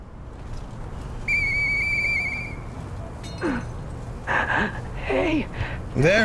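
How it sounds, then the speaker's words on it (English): A steady whistle is blown in the Lies of P video game, a sustained shrill tone lasting over a second, followed by breathy gasps and voiced sounds. "There it is, gotta blow the whistle."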